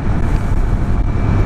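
A Honda Navi scooter-style motorcycle riding at about 60, heard as a steady engine and road rumble with wind buffeting the microphone throughout the brief stretch.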